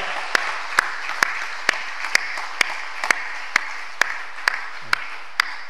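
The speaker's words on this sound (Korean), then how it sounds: "박수를 하나님께 영광 돌리고 격려하겠습니다" Sparse, evenly spaced claps from a church congregation during a Korean Pentecost Sunday worship service, about a dozen sharp hits in a steady rhythm over a quiet background hiss, with no talking.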